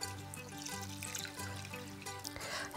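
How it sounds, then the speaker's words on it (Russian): Cold water pours from a tap into a pot of washed sushi rice, a continuous splashing, gurgling trickle with a ringing tone, close and steady with no talk. "и заливаю холодной водой."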